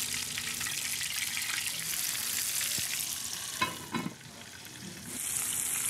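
Chicken pieces frying in a pan of hot oil for a classic Southern fried chicken, a continuous close crackling sizzle with no talking.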